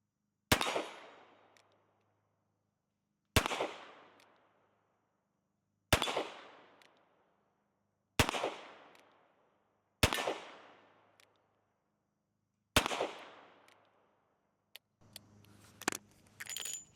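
A Korth Ranger 4-inch .357 Magnum revolver fires six loud, sharp shots at an outdoor range, spaced about two to three seconds apart, each cracking hard and ringing out briefly. A clatter of handling noise follows.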